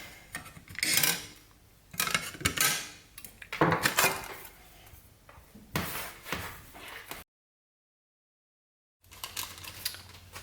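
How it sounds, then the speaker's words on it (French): Cutting the small component leads on a SEUMTEX electronics kit board with cutters: a series of short, crisp snips and scraping clicks, close and fairly loud, spaced over several seconds with a brief silent gap near the end. "Et on coupe les petites pattes."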